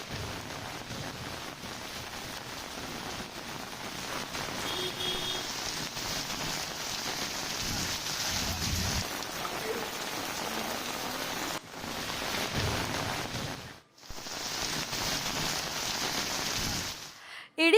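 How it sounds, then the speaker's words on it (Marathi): Heavy morning downpour at Jejuri, where the hillside fort's stone step path turned into a waterfall: a steady, dense hiss of rain that holds throughout, with brief dips near the end. "आज सकाळी दमदार पावसानं हजेरी लावली आहे अचानक आलेल्या या पावसानं नागरिकांची मात्र तारांबळ उडाली आहे"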